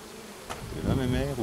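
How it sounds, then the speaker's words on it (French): Carpatica honeybees on a brood frame lifted from a Miniplus hive hum in a close, continuous buzz. It swells and wavers with nearby wingbeats, and no one speaks. "on voit que c'est des abeilles qui sont quand même relativement douces"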